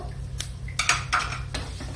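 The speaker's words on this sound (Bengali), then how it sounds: "সুজিটাও ভালো করে নাড়াচাড়া করতে থাকবো।" Semolina and white sesame being stirred in a pan, with a few sharp metallic clinks and scrapes of a utensil against the pan over a low background hum.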